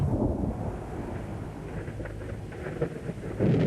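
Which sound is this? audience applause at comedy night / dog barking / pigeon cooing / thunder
thunder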